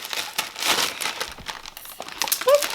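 Crinkling and tearing of packaging as a parcel holding a book is cut open, with close, irregular rustles and crackles and a brief snip near the end, no talking.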